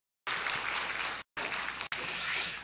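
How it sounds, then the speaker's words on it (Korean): A church congregation at a Sunday service gives a round of applause, with dense, steady clapping from many hands, cut by two abrupt gaps of silence. "함께 하나님께 영광의 박수 하겠습니다."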